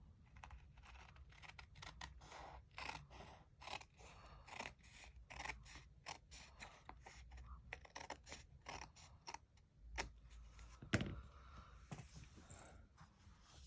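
Paper trimmer blade or scissors cutting designer series paper along the edge of a cardstock card base, a quiet run of dense, rapid snipping and scraping strokes close by with no talking.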